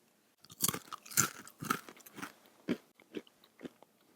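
Crisp crunching bites of a re-baked, formerly stale chip, several loud close chews in an irregular rhythm with short pauses, no talking.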